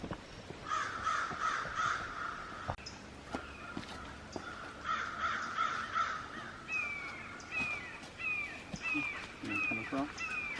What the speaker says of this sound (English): you always think that the forest is super quiet, but actually it's pretty noisy, full of birds chirping and wind blowing